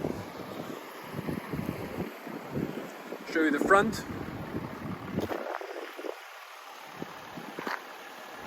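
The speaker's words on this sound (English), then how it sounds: "Sorry if it's a little windy." Gusty wind buffets the microphone with low rumbling bursts while a person talks over it, fairly loud and uneven throughout.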